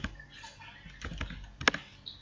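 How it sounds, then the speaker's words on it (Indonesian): A computer keyboard is typed on nearby, a few soft key taps ending in a sharper press of the enter key, with no voice. "pertama ketik bintang kemudian enter ke bawah"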